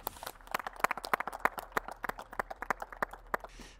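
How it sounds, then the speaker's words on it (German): Scattered applause greets the winner of a pro-spotting competition show, a small group clapping unevenly and fairly close for a few seconds before it fades, with no voices heard. "hol deinen Applaus ab."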